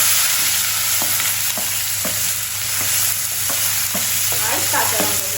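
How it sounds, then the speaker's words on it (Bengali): Chopped onions fry in a hot pan with a loud, steady sizzle, punctuated by regular spatula strokes against the metal as they are stirred close up. "এবার আমি দিয়ে দেবো পেঁয়াজ কুচিগুলো।"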